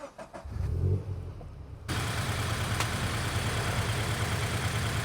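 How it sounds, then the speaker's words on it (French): A Toyota GT86 with Air Lift air suspension and a trunk-mounted compressor runs with a steady, loud, droning hiss that kicks in abruptly and holds evenly after a short stretch of rumbling engine-like noise. "la voiture, elle se baisse et elle se rehausse en fait en quelques secondes, juste avec un coussinet d'air qui est sur le combiné et un compresseur qui est dans le coffre"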